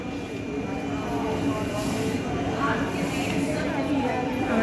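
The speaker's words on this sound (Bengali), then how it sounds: "এটা লোকাল ট্রেন দাঁড়িয়ে আছে, এটা নৈহাটি যাবে।" A local train standing at Bandel railway station gives a steady low rumble and hiss, mixed with the busy murmur of the platform and nearby voices.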